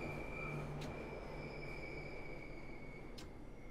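A London Underground Bakerloo Line train in Train Sim World 3 braking into Waterloo, a steady rolling rumble under a sustained high brake whine, with a few sharp clicks near the end.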